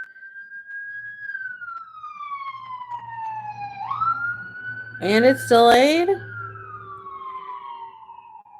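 Emergency vehicle sirens wail outside, one long gliding tone falling then rising, followed by a quick yelping burst before the steady wail returns; a voice speaks briefly over it.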